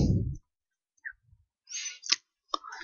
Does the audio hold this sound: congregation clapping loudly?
no